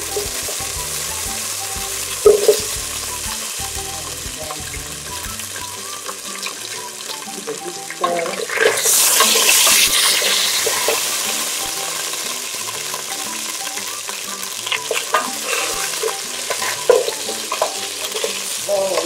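Carrot frying in oil in a pan, a steady sizzle with stirring clatter, a louder burst of hissing midway as the sizzling swells, and intermittent clinks throughout.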